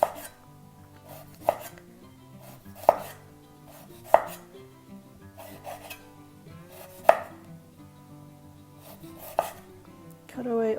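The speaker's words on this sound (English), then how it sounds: "I just slice it into smaller slices, and then go around again" Knife slicing beets into smaller slices on a cutting board for Polish horseradish with beets, sharp chopping thuds spaced a second or two apart, close and clear over faint background music.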